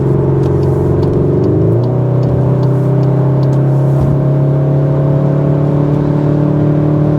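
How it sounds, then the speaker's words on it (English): A 2025 CUPRA Formentor VZ engine in CUPRA mode accelerates hard during an overtake, a steady loud drone from inside the cabin that climbs in pitch as the revs rise, with no talking over it. "So we're going to go to CUPRA mode now, and I'm going to overtake a vehicle in front of me."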